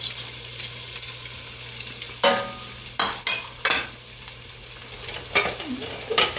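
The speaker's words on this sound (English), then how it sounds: "I'm going to go ahead and put this Italian sausage right in here. And get that going." Italian sausage fries in a pot with a steady sizzle, while a spoon stirs it in a few sharp scraping bursts that stand out above the constant frying hiss.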